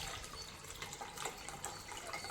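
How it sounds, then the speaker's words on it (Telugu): Soaking water drains from a batch of chickpeas, a steady faint trickle and splash of pouring liquid with small drips, close and continuous. "ఈ నీళ్ళు తీసేస్తున్నాను."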